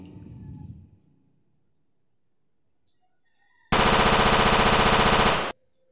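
In a cartoon horror animation, a police officer in a helicopter opens fire on a witch: after a short quiet stretch, a loud, rapid machine-gun burst rattles for about two seconds and then stops abruptly.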